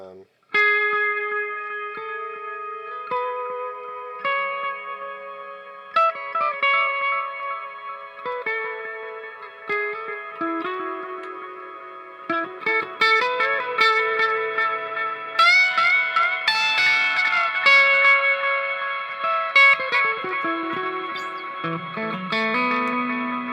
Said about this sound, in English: If I mix it with the delay, it makes for some interesting sort of ambient sounds.